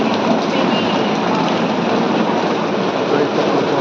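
Rain pours down at night on a street, making an unbroken, dense wash of noise that stays loud and even from start to finish.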